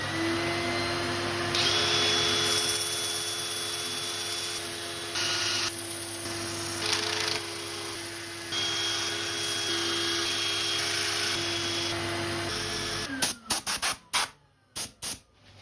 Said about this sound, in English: Right, I'll set it for sanding.